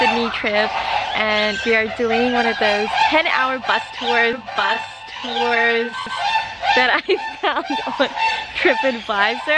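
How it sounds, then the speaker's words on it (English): A flock of birds at a wildlife park in Sydney keeps up loud, repeated honking calls close by, running all through while a person talks over them. "I don't know if you can hear those birds in the background,"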